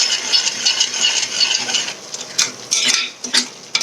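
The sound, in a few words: stirring tomato gravy in a pan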